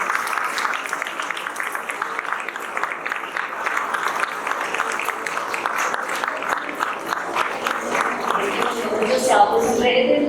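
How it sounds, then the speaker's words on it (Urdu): Students in a school hall applaud at the end of a panel discussion, giving steady, dense clapping that carries on for about ten seconds with faint voices underneath. "آپ لوگ ہال میں بیٹھے ہوئے تمام اسٹوڈنٹ سے یہ تالیاں ضرور بجائیں گے"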